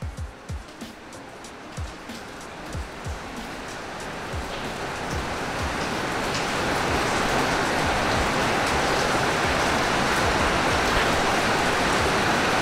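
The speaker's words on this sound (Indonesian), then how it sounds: "Sementara lagi hujan." Steady rain falls outdoors, a dense hiss that swells louder and more even over the span, with a few faint knocks and thumps early on and no talking.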